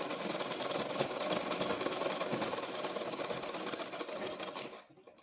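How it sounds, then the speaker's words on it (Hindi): Sewing machine stitching palazzo pant fabric: a steady, close, rapid mechanical clatter running continuously for about five seconds before stopping abruptly at the end. "देखिए ऐसे करके सिलाई लगाते जाना है"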